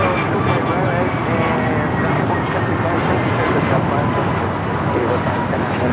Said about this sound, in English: 2415 taking off to Philadelphia on the A321 Neo